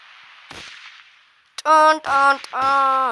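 Gunfire in the mobile game Indian Bike Driving 3D: a short thin pop, then three loud, sustained burst-like blasts with ringing tones, close and dominant.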